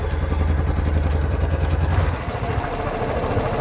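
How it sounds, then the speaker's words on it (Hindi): A motorcycle engine idles with a steady low, clattering thump, heard close and loud, and its rhythm changes slightly partway through, set against a wet rainy-day road. "फिर मैंने उठाई अपनी बाइक"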